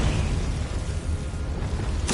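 Confringo fire spell exploding in a Harry Potter-style video game: a low booming rumble sustained through the moment, capped by a sharp crackling burst at the very end.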